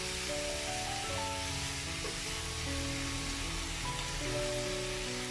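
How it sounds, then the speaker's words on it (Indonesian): Beef pieces stir-frying in a hot pan, a steady close sizzle with stirring scrapes underneath. "Sekarang kita masukkan. Kita tumis dulu."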